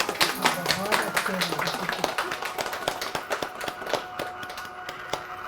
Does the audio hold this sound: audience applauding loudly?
yes